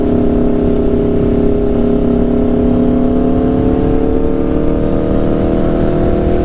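Aprilia RSV4 superbike fitted with an SC exhaust, accelerating at about 40% throttle: a loud, steady engine roar with rising harmonic tones, heard up close with no speech.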